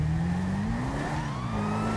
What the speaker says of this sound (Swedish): det är en motorcykel.